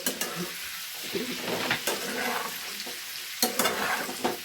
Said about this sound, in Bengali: এগুলো একটু ভালো করে নাড়াচাড়া করে নিচ্ছি।